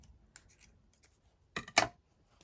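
Scissors cut a craft mat: soft, faint snipping and rubbing, then two sharper, louder cuts close together near the end, in an otherwise quiet room.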